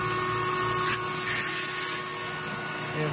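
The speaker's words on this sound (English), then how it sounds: "Air compressor." An air compressor aboard a trawler runs with a steady mechanical whine and hum, close and continuous, with a brief hiss partway through.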